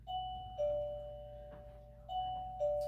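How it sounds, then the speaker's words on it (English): A doorbell chimes twice, each a clear two-tone ding-dong ringing out loud and close in an otherwise quiet room. "So we'll have the doorbell ring."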